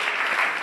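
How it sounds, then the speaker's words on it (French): Congregation applauding at a French-speaking church service, a steady, dense burst of clapping throughout the short moment. "applaudis le Seigneur."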